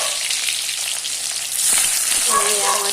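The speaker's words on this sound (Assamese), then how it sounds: "জালুকীয়া আঞ্জাটো ভাজিবলৈ লৈছোঁ।" Taro leaf curry fries in a pan with a loud, close, continuous sizzle and some stirring scrapes, rising slightly halfway through.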